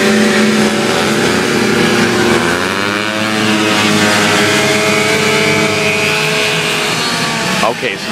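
Vintage snowmobile engines race around a corner, a loud continuous two-stroke drone with rising and falling pitch as machines accelerate past, under steady commentary from an announcer.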